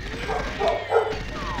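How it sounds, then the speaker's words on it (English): Dogs barking in a room during a Goldeneye gaming session, a couple of muffled yips and barks in the background beneath a person talking and game sounds. "you can hear my dogs barking"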